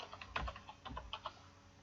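Irregular bursts of key clicks from typing on a computer keyboard while entering loan formula details, close and alone with no voices.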